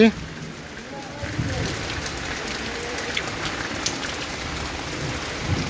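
Heavy rain pours steadily outdoors in a dense, continuous wash of hiss and patter that holds level throughout, with a faint low rumble underneath.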